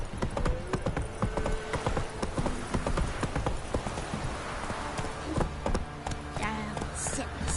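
Hoofbeats of Roach, a horse galloping in The Witcher 3, clop in a steady rapid rhythm throughout, with game ambience and brief speech mixed in.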